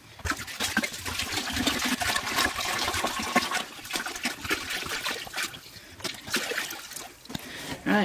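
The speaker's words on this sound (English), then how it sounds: "and then I'm just going to fill this up with water." Water pours steadily into a five-gallon wine fermenting bucket holding peaches in a mesh bag, a continuous close rushing and splashing with small surges.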